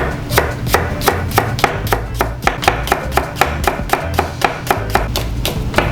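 A knife slices a green onion into thin pieces on a cutting board, a crisp, even run of about twenty sharp chops in quick rhythm, close and loud.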